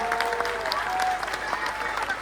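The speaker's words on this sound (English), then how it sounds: "All of you clap loudly for all the children here" Audience applause after a children's drama performance at a school, a steady dense wash of clapping from a crowd, moderately loud throughout with a faint voice or tone under it.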